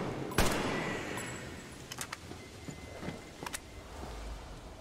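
One sharp gunshot cracks in Metro Exodus, followed by scattered lighter shots and clanks over a steady hissing background, moderately loud.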